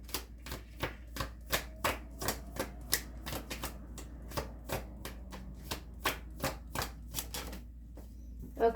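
Tarot cards riffle and flick in a rapid, steady run of crisp snaps as they are shuffled, close and clear, ending with a brief pause as a card is drawn, no talking.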